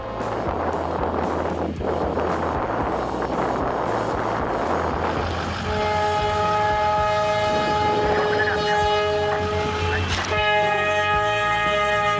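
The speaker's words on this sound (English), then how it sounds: "It's simply the way a snow clearing machine does its job." A snowplow train clearing snow from railway tracks gives a loud, continuous rushing roar of thrown snow and machinery, and a steady horn-like tone joins partway through over the dense noise.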